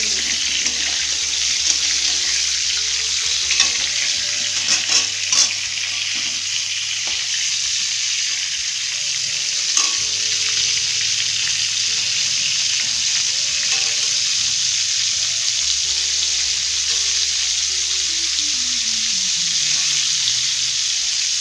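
Pointed gourd (potol) being stirred and fried in oil: a steady, close sizzle runs throughout with small scraping and clinking touches from stirring, and no voices.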